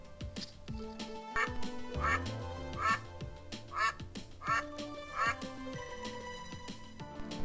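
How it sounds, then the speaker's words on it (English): A cartoon-style duck quacks five times in a steady rhythm over background music, each call clear and fairly loud. "The sound which duck makes, we called it quack quack."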